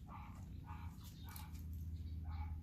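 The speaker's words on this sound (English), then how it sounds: "Oh, his neighbor's dog is barking." A neighbor's dog barks in the distance, faint repeated barks spaced over a low, steady background hum.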